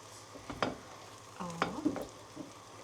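Garlic sizzles in butter in a pan, faint and low under quiet stirring, with a few scraping strokes and short bursts of clatter.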